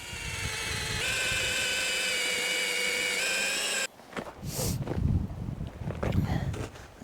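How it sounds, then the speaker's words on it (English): A power drill bores a tap hole into a maple tree, a steady whining motor note with stable harmonics running loud for about four seconds before cutting off, followed by quieter handling noises and rustling. "and then I'm just going to drill in"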